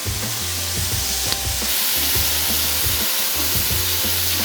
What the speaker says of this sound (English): Now we're gonna add a little bit of soy sauce for additional flavor, and a little bit of rice wine vinegar